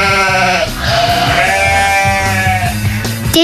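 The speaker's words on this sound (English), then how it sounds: "Did you hear a baaing noise? Can you guess what kind of animal baas like that? That's right, a sheep." A sheep bleats loudly and close by in one long, wavering, continuous call that dominates the sound.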